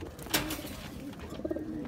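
Squabs of African Black Eagle pigeons in a breeder's loft give soft, low cooing calls mixed with faint chirps, fairly close and steady over a brief stretch with no talking.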